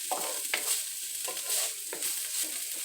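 Hotdogs fry in a pan for spaghetti with a steady broadband sizzle, punctuated every half second or so by short scraping stirs of a utensil against the pan; close and continuous, no voices.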